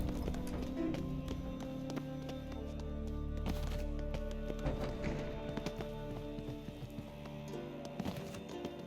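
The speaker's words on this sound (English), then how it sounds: "Footsteps." Footsteps clop steadily at a moderate distance, each step a soft, regular tap, over quiet ambient sound in a castle interior in The Witcher 3: Wild Hunt, with no talking.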